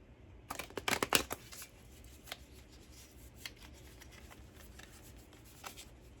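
A deck of cards is shuffled up close, with a burst of rapid riffling snaps early on and then quieter scattered flicks and taps of cards being handled.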